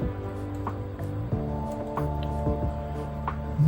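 Wet squishing and dripping of water on clay as a 2.5 kg pitcher is thrown on a pottery wheel, close and moderately loud over the steady hum of the spinning wheel.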